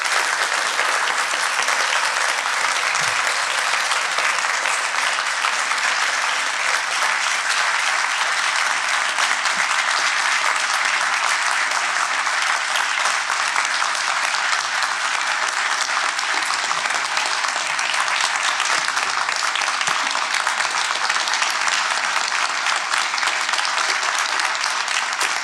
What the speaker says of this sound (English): So a big round of applause for Lila and Gary.